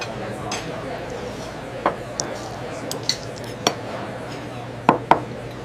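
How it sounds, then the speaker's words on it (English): A fork clinks against plates while salmon is served at a restaurant pass, a handful of sharp separate metallic taps spread over a low kitchen murmur. "A fork cuts through gently flaking salmon, showing doneness and moisture without heavy sauce or distraction."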